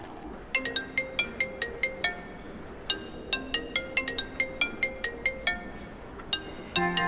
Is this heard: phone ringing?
yes